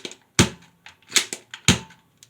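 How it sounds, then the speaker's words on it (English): A Nerf toy gun fires three sharp, close, loud pops spaced roughly evenly, with faint clicks and rattles between and after the shots. "Fake gun. Nerf gun. It's a Nerf gun."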